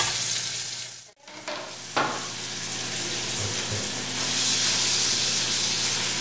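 Thin pork steaks hit a hot pan with mushrooms and burst into loud, close sizzling, with a short drop and then a sharp clatter before a steady, intense frying hiss settles in.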